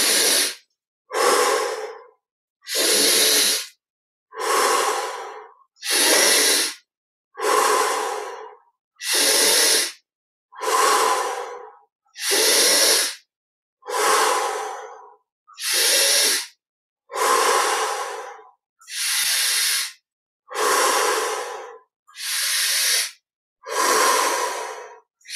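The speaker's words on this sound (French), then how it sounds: "Et on prend 20 respirations profondes." Deep breathing during a guided meditation, about sixteen long, strong breaths in a slow, even rhythm, each a full airy rush separated by short silences, close and clear with no talking.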